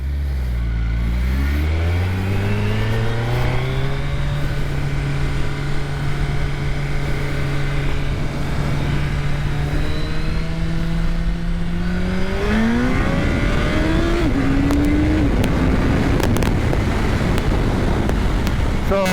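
A Gen 3 Suzuki Hayabusa motorcycle accelerating hard into a small power wheelie, its engine note climbing steadily through the gears with brief shift dips, loud and close under strong wind noise.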